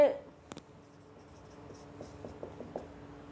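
Pen scratching on paper while writing out a maths problem, a few faint strokes and taps at close range, quiet and intermittent with a slight room hum.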